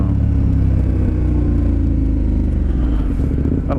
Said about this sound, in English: this thing sounds amazing. But that is due to a Aero slip-on exhaust that I have on there